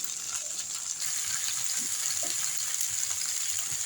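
Red amaranth greens hit browned onions frying in a pan, giving a steady, close, bright sizzle with faint crackles and pops throughout.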